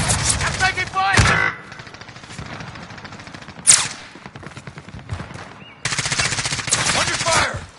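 Automatic gunfire in the video game Call of Duty Warzone, with loud rattling bursts at the start and end, a sharp single shot in the middle, and players talking throughout.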